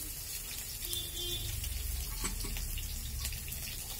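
Water runs steadily from a kitchen tap while dinner is cooked, a continuous gushing stream with light splashing, fairly close and heard alone without speech.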